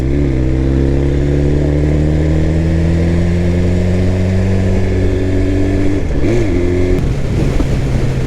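A litre superbike engine on a track holds a loud, steady high-pitched drone that climbs gradually, then dips and rises sharply around a quick gear change before cutting off; close, strong, without voices.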